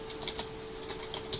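Soft, quick clicks of keys being pressed in a rapid, uneven rhythm, close but quiet against a faint electrical hum.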